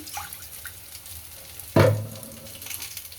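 Water is poured into a hot wok to start a sugar syrup, bursting into a sudden loud hiss and sizzle that trails off into a softer bubbling after a quiet stretch.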